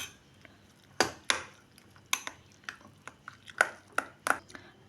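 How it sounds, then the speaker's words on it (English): A spoon stirs cut noodles, making a string of sharp clinks and scrapes against the dish at irregular intervals. The sounds are close and fairly quiet, with no talking. "Now stir the noodles with a spoon."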